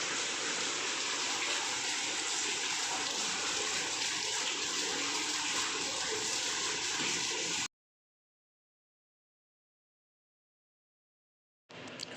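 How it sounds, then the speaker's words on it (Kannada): Steady, loud rush of heavy rainwater flowing, continuous for several seconds, then a sudden cut to silence before the gushing briefly returns. "ತುಂಬಾ ಮಳೆ ನೋಡ್ತಾ ಇದ್ದೀರಲ್ಲ ಇಲ್ಲೆಲ್ಲ ಬಂದುಬಿಟ್ಟಿದೆ ನೀರು"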